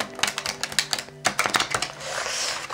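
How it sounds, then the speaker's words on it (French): A deck of chakra oracle cards is shuffled close up, producing loud rapid flapping riffles and taps in quick bursts, followed by a softer brushing slide as the cards settle. "on va vraiment bien les mélanger celles-ci"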